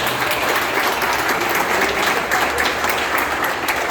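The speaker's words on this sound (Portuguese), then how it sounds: "Palmas para os vencedores aqui" A class claps steadily and loudly for several seconds for quiz winners, dense applause with no pauses and no talking over it.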